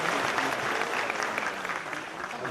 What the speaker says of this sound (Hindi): एक बार सबके लिए तालियां बजाओ।